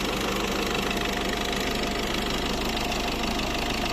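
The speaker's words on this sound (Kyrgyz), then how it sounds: "Чоткий иштеп турат мотору." A 2017 Citroën Grand Picasso with a 1.6 turbodiesel idles with a steady, dense diesel clatter and hum that holds an even level throughout, with no voices.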